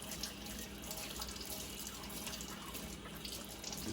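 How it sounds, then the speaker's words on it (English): Warm tap water runs steadily while a silicone tumbler is scrubbed by hand at a sink, a close, continuous broadband hiss with no talking. "Turn some water on, just warm, and you can literally just scrub this off by hand."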